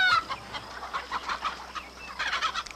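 Chickens cluck close by on a farm in a 1979 film scene, a series of short nasal clucks and squawks in uneven bursts against quiet background.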